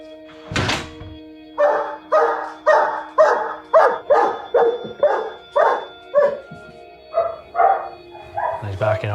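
A support dog with separation anxiety barks in a steady run of about a dozen evenly spaced, close, loud barks within 30 seconds of its owner leaving the house, after a single heavy thunk at the start.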